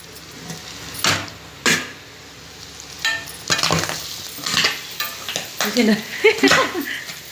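Boti (goat tripe) curry spits and pops in a pan on a medium flame, with sharp crackling bursts breaking over a steady sizzle. The popping grows busier near the end, and a voice briefly talks and laughs over it.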